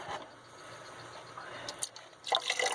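Water runs from a bathtub tap, a soft continuous splash that grows louder and more broken toward the end, with faint drips and no talking.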